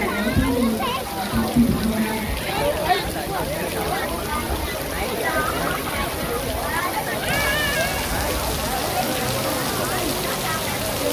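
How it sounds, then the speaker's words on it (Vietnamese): Heavy rain pours onto a walking street, a dense steady hiss of splashing water throughout, with people talking and shouting over it. "mưa này mưa lớn luôn, mưa dần khủng khiếp luôn."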